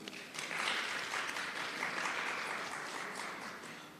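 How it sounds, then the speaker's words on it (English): An audience at a national health research conference applauds with sustained, even clapping that swells after a quiet start and holds steady for several seconds, moderately distant. "Let us give them a round of applause."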